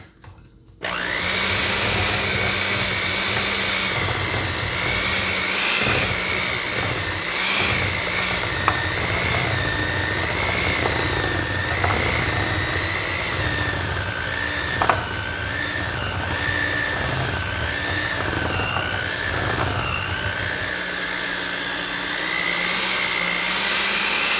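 An electric mixer with an attachment whirs through pecan pie muffin batter, starting abruptly and running as a loud steady motor whine for over twenty seconds, with faint knocks against the bowl.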